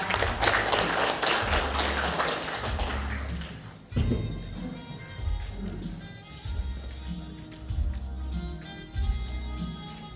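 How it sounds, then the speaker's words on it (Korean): Steady applause from an audience at a civic book-review event in Gumi, Korea, fills the first few seconds, then thins out under rhythmic thumping and background music. "박수 부탁드립니다"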